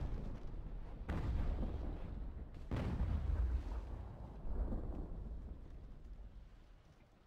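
Heavy naval gunfire in a ship battle video game: two deep, booming salvos fire in quick succession and leave long rumbling tails, then a third softer boom follows, loud and close.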